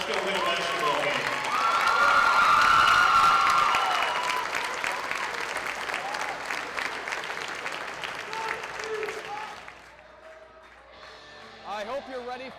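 A crowd applauding the Jefferson College Lady Vikings women's basketball team in a gym, loud sustained clapping that swells and then fades, with an announcer's voice carrying over it.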